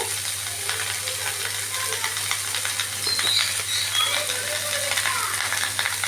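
Drumstick stems and potatoes fry in a pan, giving a constant close sizzle with a few light clinks and scrapes as they are stirred and no talking.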